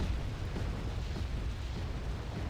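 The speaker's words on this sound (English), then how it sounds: "Oh, we got rockets coming in." Incoming rockets explode in Wargame: Red Dragon, a dense, continuous low rumble of blasts and booms rolling on without clear gaps, fairly faint and heard alone.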